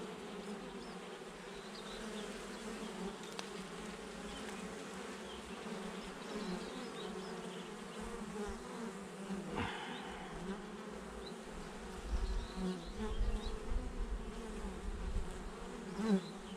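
A steady, droning hum of many honeybees buzzing close by at an open hive, thick and continuous, with a slight swell in intensity toward the end.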